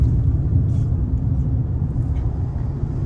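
A new car's engine gives a steady low rumble, heard from inside the moving vehicle as a constant, fairly loud drone with no talking.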